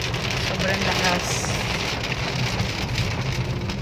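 A heavy downpour hammers steadily on surfaces nearby, a dense, loud and unbroken hiss of rain, with a voice talking under it.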